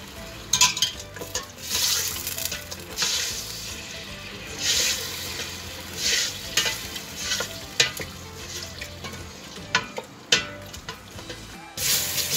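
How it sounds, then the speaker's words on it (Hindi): Mutton with ginger-garlic paste sizzling and frying in a pan, with a utensil repeatedly scraping and stirring; steady close crackle throughout, no talking. "जी तो आप देखें गोश्त मैंने कितने अच्छे से भून लिया है"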